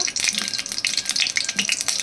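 Crackling sizzle of rohu fish frying in hot oil in a wok, with bursts of spitting and popping throughout, close and fairly loud.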